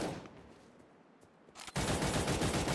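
Gunfire in the Cyber Hunter shooter: a few faint shots at first, then a sudden loud, sustained burst of rapid fire to the end.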